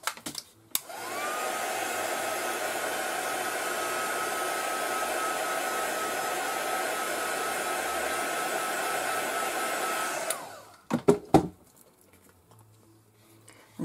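A handheld heat dryer blows over Versafine ink on a handmade card, starting with a click and running as a steady, moderately loud whooshing drone for about ten seconds before cutting off, followed by a few handling clatters.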